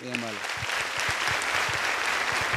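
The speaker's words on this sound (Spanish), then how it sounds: "Un aplauso a Carlos Becker." A crowd breaks into brisk, dense clapping that continues evenly throughout, with a short voice at the very start.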